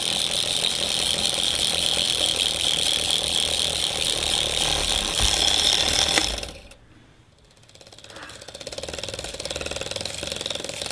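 A Westminster DC motor kit runs with a steady, fairly loud whirring buzz and mechanical rattle. It cuts out abruptly for about a second, then spins back up to the same even drone.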